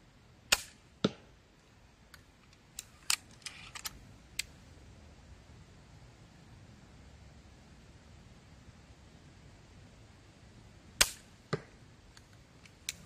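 A compact Mamba Aggregator crossbow shoots outdoors, each release a sharp, close snap followed by quick clicks and knocks, with several scattered shots and handling sounds over a quiet, breezy background.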